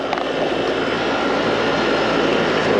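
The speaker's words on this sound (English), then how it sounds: "But it does sound like the compressor is running." A Trane or Goodman HVAC system's compressor runs with a steady, loud broadband whir and rush that continues unchanged throughout, with no voices.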